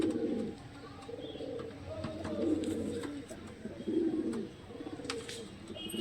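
Pigeons in a loft give low, rolling coos, repeated and close, over a soft background of rustling and faint chirps; no one speaks.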